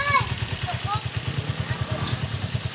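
Motorcycle engine idling nearby with a rhythmic, chugging pulse and light mechanical clatter, steady throughout, with people talking faintly in the background.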